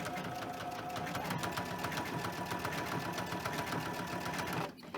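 A sewing machine stitches a small fabric valentine card, its rapid needle chatter running steadily and close for several seconds before stopping abruptly near the end, with no talking.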